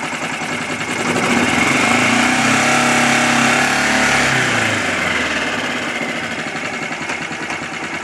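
A Tohatsu 6hp Sailpro outboard motor runs with its propeller submerged in water, a steady close buzzing drone that swells slightly in the middle and stays even throughout, with no voices.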